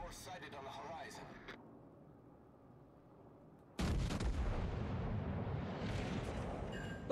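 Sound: battleship artillery salvo in video game World of Warships Legends

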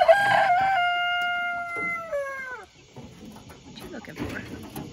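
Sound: guinea fowl calling at bedtime

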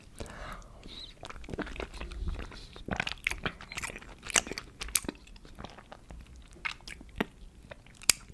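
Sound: eating and chewing Kayseri mantı dumplings with garlic

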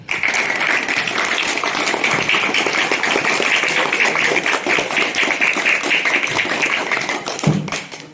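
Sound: applause, audience clapping for school staff

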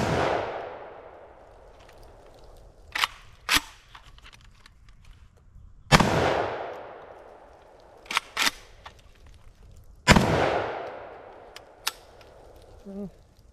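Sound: K-USA Komrad 12 shotgun firing birdshot

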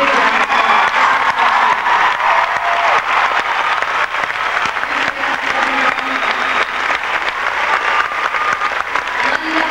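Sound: concert audience applause

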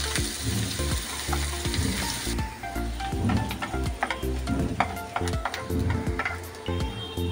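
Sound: onions frying in hot oil in a pan

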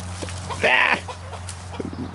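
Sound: chicken clucking while being chased by a cat

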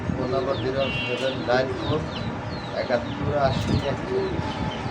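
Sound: pigeons cooing at a pigeon seller's

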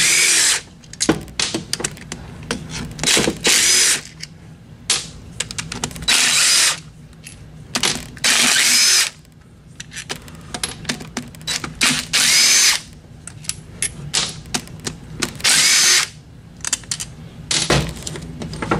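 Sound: power tool removing 10 mm bolts from a transmission

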